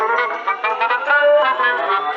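A jazz trio plays a jazz arrangement of a rock song, a steady, full harmonic band texture with sustained melodic lines, alone and fairly loud throughout.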